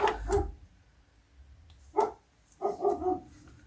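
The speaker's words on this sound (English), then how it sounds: "I'm sorry if you can hear my dogs in the background." Several dog barks at moderate distance: a couple of sharp barks, a pause, then one bark followed by a short burst of two or three.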